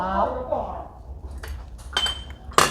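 Plates and bowls clink and chink as they are set down on a dining table, several sharp bright knocks of crockery, close by, with people talking around them.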